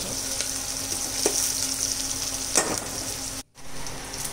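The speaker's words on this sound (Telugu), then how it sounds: "ఆనియన్స్ మిర్చి వేగేంతసేపు కలుపుతూ ఉండాలి మధ్యలో" Onions and green chillies fry in a pan with a steady, close sizzle, punctuated by a few sharp scraping stirs of a spoon and a brief dropout near the end; no talking.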